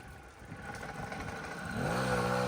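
A Puch Maxi moped engine revs during wheelie practice, a steady mid-pitched drone that climbs in pitch and grows louder toward the end, heard close with no talking.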